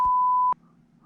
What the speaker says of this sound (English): I woke up in the morning times to hearing beep, beep, beep, beep, beep.